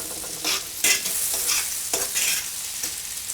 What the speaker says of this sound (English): So we'll just brown up these onions here a little bit until they're just getting a little bit transparent on us.